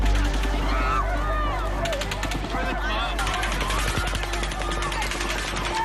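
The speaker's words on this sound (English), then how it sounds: "With the shooter firing from 32 stories up in the hotel across the way" Rapid automatic gunfire from a shooter 32 stories up in a hotel during the Las Vegas mass shooting, continuous bursts of cracking shots, somewhat distant, with people talking and shouting over it.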